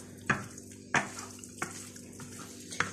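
Chicken is mixed with spices for a marinade in a bowl, giving a few sharp, close clinks and taps of a utensil against the dish at uneven intervals over a quiet, faintly wet background.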